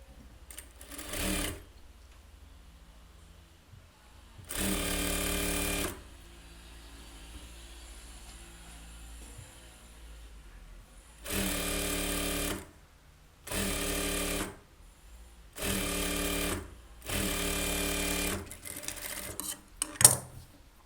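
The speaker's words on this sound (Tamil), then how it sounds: "இப்படியே எடுத்து விட்டு லைனிங்கில் ஓரத்தில் தைக்கும்." An electric sewing machine stitches the lining of a blouse in several loud bursts of steady mechanical whirring, each lasting one to two seconds and separated by quiet pauses.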